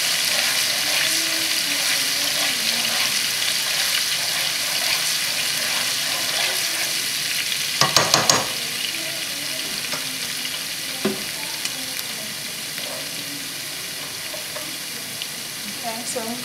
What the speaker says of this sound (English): right now we're just infusing the oil with garlic